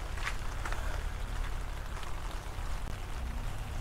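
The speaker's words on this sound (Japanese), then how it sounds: "雨が降ってきました。" Rain falls on the town of Kitsuki in Kyushu, Japan, a steady, faint, even hiss with no breaks and no voices.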